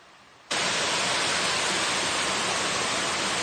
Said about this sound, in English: Rocky Mountain House Waterfall.